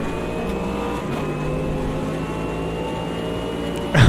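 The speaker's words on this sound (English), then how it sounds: "Oh, listen to that Corvette as well, that sounds amazing." Corvette race car in the Automobilista 2 racing game during an endurance race in traffic, its engine droning steadily and loud throughout with a sustained tone, ending in a sharp burst of noise.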